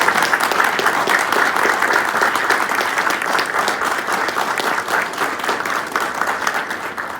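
Audience applause at a US Navy chief warrant officer commissioning ceremony, a steady, dense wash of many hands clapping at fairly even loudness throughout.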